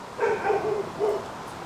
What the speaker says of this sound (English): That wasn't Bowser, if you heard the dog bark